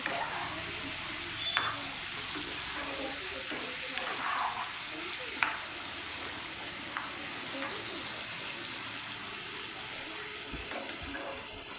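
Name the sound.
chicken being stirred and sautéed in hot oil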